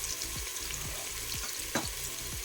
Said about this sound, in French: je vais la faire dorer quelques minutes avec les oignons